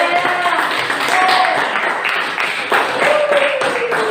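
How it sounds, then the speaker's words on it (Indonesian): Students in a classroom clap for the winning group, a loud, close patter of hands mixed with overlapping chatter and some whistle-like tones, continuing throughout. "Tepuk tangan."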